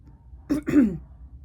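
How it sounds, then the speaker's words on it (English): A single short throat clearing, two quick rough bursts close to the mic, then quiet. "bro, I need a cough."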